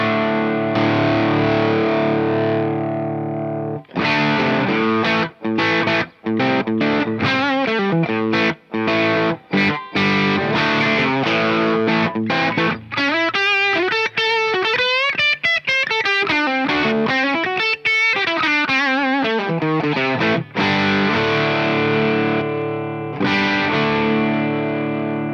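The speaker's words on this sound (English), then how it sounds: "Let's play around with the low gain spectrum of both of the pedals, starting with the Chupacabra." Electric guitar played through a Mythos Chupacabra overdrive pedal at low gain, sustained chords and riffs with a lightly driven, crunchy tone, loud and continuous with short gaps between phrases.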